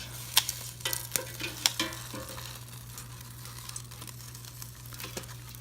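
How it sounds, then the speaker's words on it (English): Intermittent crackle and hiss of food frying in a pan, with sharp pops scattered over a steady low hum, fairly quiet and close. "it's sizzling along"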